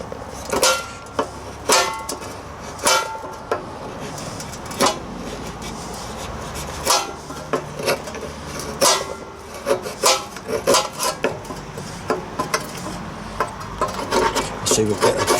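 A knife scrapes shavings from a stick of fatwood for a ferrocerium rod fire, with repeated rasping strokes in an uneven rhythm, close and fairly loud throughout.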